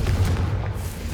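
A Confringo blasting spell explodes in Hogwarts Legacy, a single deep, loud boom that rumbles and fills the short moment.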